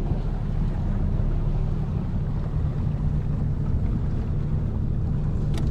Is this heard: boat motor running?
yes